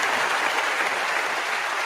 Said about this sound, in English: I want everybody to give themselves a round of applause.